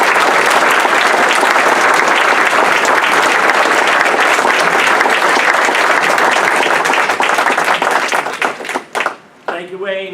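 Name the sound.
audience applause welcoming a speaker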